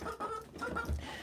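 Backyard chickens cluck softly while being fed pieces of corn, several short overlapping clucks and murmurs packed into about a second, close and fairly quiet.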